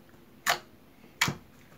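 Two crisp, separate clicks about three-quarters of a second apart come from a glossy, honey-like slime being squeezed, close and quiet against a near-silent background.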